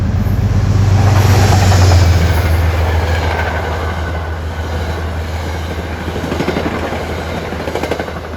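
A passing train hauled by New Haven Heritage-painted locomotive 229 rumbles loudly with a deep, steady low drone, swelling in the first seconds and then settling into continuous wheel and car noise with rhythmic clatter, no voices.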